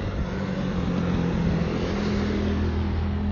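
An ATV engine runs steadily and fairly loud throughout, a continuous low motor drone with no talking, heard from a drone flying overhead.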